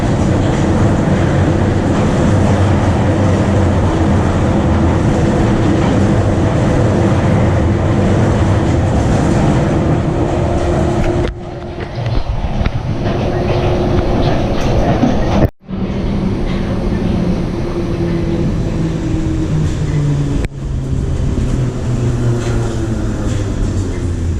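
Continuous loud rumble and rattle of a train carriage running on rails, with steady low droning and occasional brief dips in the noise.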